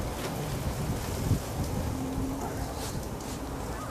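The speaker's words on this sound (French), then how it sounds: "Quand même un bon vent aujourd'hui." Strong outdoor wind buffets the microphone in a steady, broadband roar with low rumbling gusts, continuous for the whole stretch with no talk.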